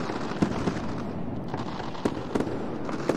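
Fireworks pop and crackle from a good distance as a game sound effect in Unreal Engine 4, with scattered sharp bursts over a steady rumbling bed.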